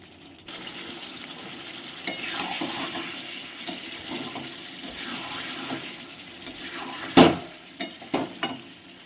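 Chicken kosha being stirred in a pan as the meat cooks down in its own released juices, with a steady low sizzle and scattered scraping clicks of the spoon, louder near the end.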